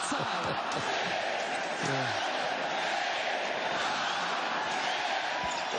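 Playoff basketball crowd in an Indianapolis arena during a Bucks vs Pacers first-round game, a dense continuous roar of chanting and cheering fans, loud and sustained throughout.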